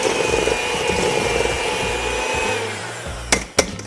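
An electric mixer creams butter and sugar for Persian saffron raisin cookies with a steady, fairly loud motor whir. It stops near the end, followed by a couple of short knocks.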